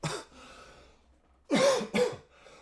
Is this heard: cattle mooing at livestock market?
no